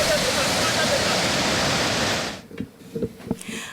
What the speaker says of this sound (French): les cascades de Karfigela, une merveille de la nature qui vaut la peine d'être visitée